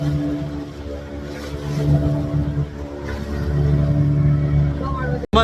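A motorboat on the Madu River in Sri Lanka, with a steady, loud engine drone and hum throughout, water noise around it, faint voices, and a brief cutout near the end.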